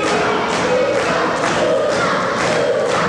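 Wrestling crowd at an independent pro wrestling event yelling and jeering at a wrestler, a loud, continuous wall of shouting voices with scattered thuds, swelling in waves throughout.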